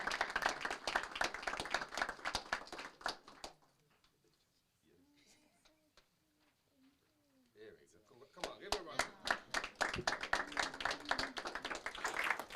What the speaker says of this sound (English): Let's give them all a warm round of applause as they've joined us already.